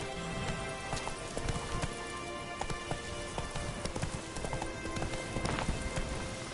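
Horse Roach galloping in a video game, a steady run of hoofbeats under dense, busy game audio with rain-like patter, no talk.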